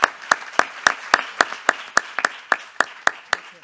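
At a conference session, a single person claps about a dozen sharp, evenly spaced times, close and dry, with no crowd joining in.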